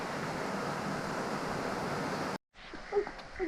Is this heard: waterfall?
yes